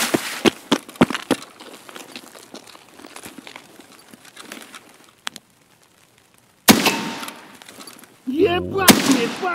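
Sharp gunshots from a suppressed 12 gauge pump shotgun in Escape From Tarkov crack out in a cluster of quick reports, followed by a pause, then a few louder blasts and a scuffling noise near the end.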